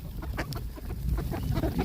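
Geese in an urban spot with ducks nearby give a rapid series of short, close honking calls, overlapping and continuous throughout.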